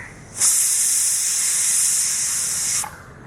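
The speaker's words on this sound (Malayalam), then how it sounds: "ഇതാ നാല് വിസിൽ വന്നിട്ടോ എയറൊക്കെ നന്നായിട്ട് കളഞ്ഞു നമുക്ക് തുറക്കുക" A pressure cooker vents steam after four whistles: a loud, sharp hiss bursts on, holds steady for a couple of seconds, then cuts off, leaving quiet kitchen background.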